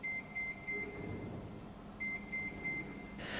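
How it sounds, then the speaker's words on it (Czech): A Sanela radar urinal flusher's receiver gives three short electronic beeps, a pause, then three more beeps, thin and moderately loud over a low background hum, with no talking. "Stupeň 21 až 30 – trojité pípnutí."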